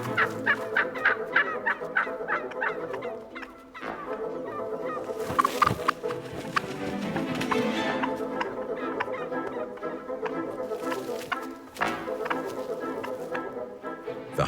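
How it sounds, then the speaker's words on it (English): Wild turkeys gobble repeatedly in a woodland setting, a dense, loud chorus of rattling calls with overlapping birds, steady throughout with a few sharper bursts. "turkeys must get off the ground, or they could become dinner for coyotes."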